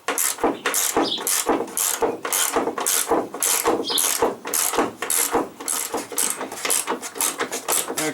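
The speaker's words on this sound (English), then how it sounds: "I'm going to take and remove these 3 bolts that hold the top mount of the strut in." Ratchet wrench loosening the three top-mount strut bolts on a Chevy Equinox during a front strut replacement, a steady run of close, crisp clicking strokes repeating quickly without pause.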